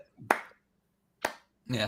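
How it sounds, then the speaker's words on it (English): Three slow, separate hand claps, close and fairly soft, spaced out with quiet gaps in a bar setting. "it's a little slow clap"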